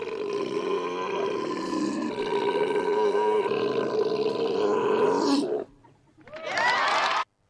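A long, loud, drawn-out belch from the film Revenge of the Nerds rumbles for about five seconds, then breaks off. After a brief pause, a second rasping belch follows and ends abruptly.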